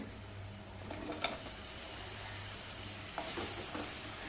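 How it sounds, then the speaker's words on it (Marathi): Potato pieces frying in a pan with coriander powder and cumin powder masala for aloo methi sabji give off a steady, close sizzle, broken by a few soft stirring scrapes. "आता बटाट्याच्या फोडी घालूया"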